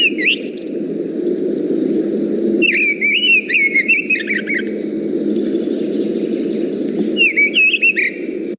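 A mistle thrush sings outdoors in two short fluting phrases separated by a pause, clear above a low steady background rumble.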